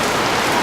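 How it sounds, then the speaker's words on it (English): Heavy rain pours down in Ethiopia, a dense, steady wash of drops hammering a surface, loud and continuous with no pauses. "All of a sudden, it is just downpouring. The rain is coming down."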